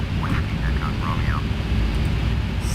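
An aircraft holding short of the runway in Microsoft Flight Simulator X at Kelowna, a steady loud engine rumble and hiss running throughout, with a voice speaking over it.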